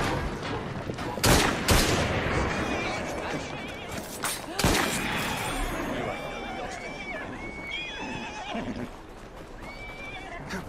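A gunfire volley in Assassin's Creed Syndicate, a few sharp loud cracks mixed with horses neighing and galloping hooves, while characters shout over the chase.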